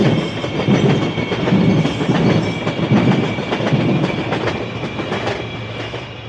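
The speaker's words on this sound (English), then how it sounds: "Oh, there goes the LRT." A light rail train rumbles steadily past nearby in Pudu, Kuala Lumpur, with rhythmic clickety-clack of wheels on rails and a faint high whine, continuous throughout.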